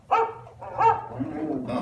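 A dog barks in the Carousel of Progress animatronic show, two close yapping barks followed by a softer whine-like bark at the end.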